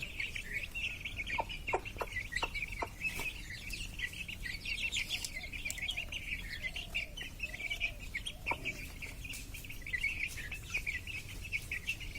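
Several chickens and chicks cluck softly and steadily in the background while high insect-like chirps buzz continuously throughout.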